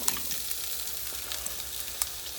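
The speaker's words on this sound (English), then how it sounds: "So I have the eggs in here with the salmon, and I'm just going to let this cook just a little bit" Beaten eggs cooking with salmon in an oiled pan on a stovetop, giving a soft, steady sizzle with a few faint ticks and pops, low in level and without talk.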